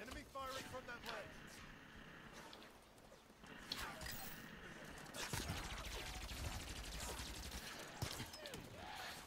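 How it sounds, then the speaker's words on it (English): Enemy gunfire in the Halo video game comes as dense bursts of rapid shots and cracks over busy battle noise, loud and continuous across the stretch, with someone talking over it. "Enemy firing from that ledge."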